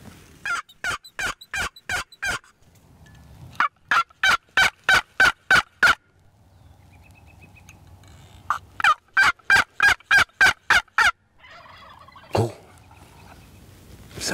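Wild turkeys gobble in the woods during spring turkey season, loud bursts of rapid rattling gobbles with short pauses between them, followed by a fainter answering call, and no talk.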